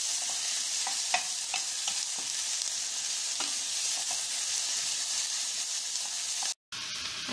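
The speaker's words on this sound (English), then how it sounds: "You can hear they're sizzling very nicely." Ingredients for a pasta Napolitana sizzle steadily in a frying pan while being stirred, a continuous close hiss with scattered utensil clicks and scrapes, ending in a brief cut before the sizzle resumes.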